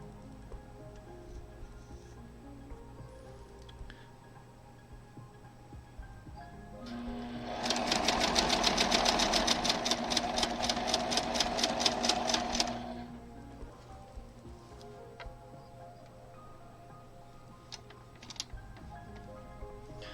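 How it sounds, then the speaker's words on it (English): A sewing machine stitches a scant quarter-inch seam on a Sawtooth Star quilt block, running in one steady rapid burst of about five seconds between quieter pauses, close and without talk. "I'm not sewing on the line, I'm sewing just a little bit to the side of it"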